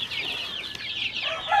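Hungry backyard chickens and chicks make soft, overlapping clucks and peeps in a continuous chorus, close by and fairly quiet, with no talking.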